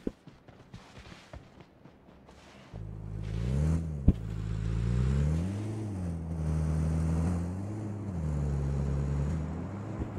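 A vehicle in PUBG Mobile starts up and drives off, its engine droning and rising and falling in pitch as it revs and shifts, loud and steady close by after some brief clatter.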